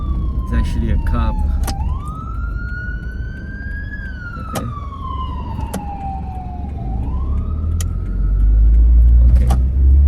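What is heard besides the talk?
police car siren approaching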